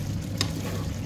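Chayote sautéed with sardines in a pan sizzles steadily, with a single brief stir or scrape cutting through the low, continuous frying hiss.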